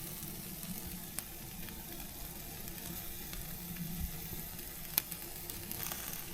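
Meat sizzles steadily on a grill as a soft, continuous crackle with occasional faint pops, heard alone at low level.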